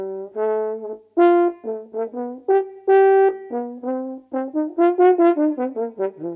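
Trombone playing a bluesy jazz phrase: a flowing run of distinct notes, bending and sliding in pitch, clear and close with no accompaniment.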